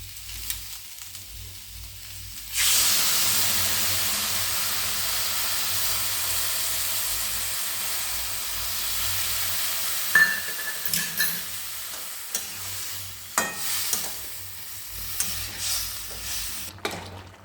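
Mustard seeds hit hot oil for Bengali neem sukto and burst into a sudden loud, steady hiss. Sharper crackles and pops break through later as the seeds sputter, close up and without speech.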